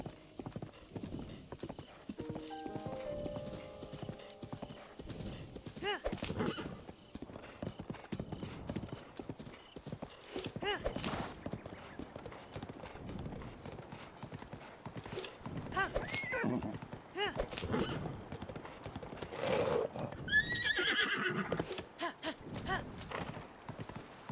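Hooves clop rapidly in a galloping rhythm over ambient game sounds from Zelda: Breath of the Wild, and a horse whinnies loudly near the end.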